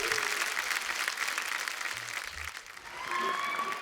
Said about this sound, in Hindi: जोरदार तालियां हमारे दोस्तों के लिए।